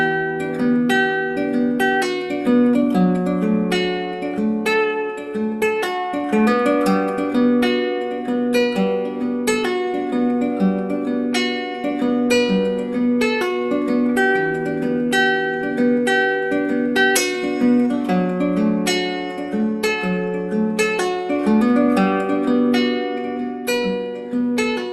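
Fingerpicked guitar playing the main riff of a song, a steady, bright flow of plucked notes over ringing bass strings, close and continuous with no talking.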